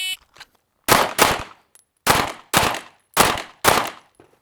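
Six sharp pistol shots ring out during draw practice at a target, arriving in spaced pairs and singles, each a loud crack with a short decaying tail and near-silence between them.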